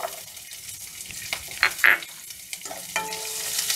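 Thinly sliced onions hit hot oil in a pan for an arbi curry, giving a steady close sizzle with a few louder crackling bursts and stirring scrapes, no voices.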